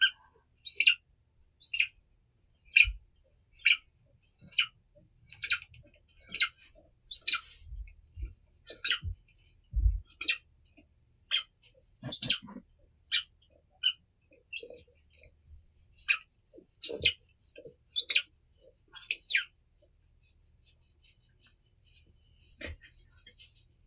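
A Saint Bernard repeatedly stomps on and bites an Angry Bird squeaky toy, producing a long run of sharp, high squeaks at an uneven but steady pace, fairly close and moderately loud with some low thumps.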